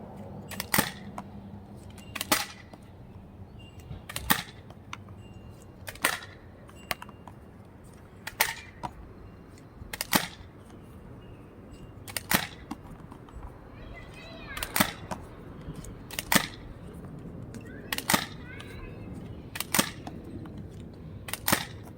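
A Nerf Fortnite two-in-one blaster fires foam darts in a steady series of sharp snapping shots, about a dozen spaced roughly a second or two apart, with light mechanical handling noise between them and no talk.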